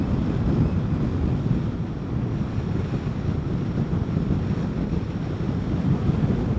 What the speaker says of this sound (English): Straight into about a 15-mile-an-hour wind